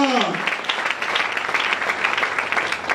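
A church congregation applauds and cheers in a continuous dense burst of clapping. A brief sung or shouted voice can be heard at the start.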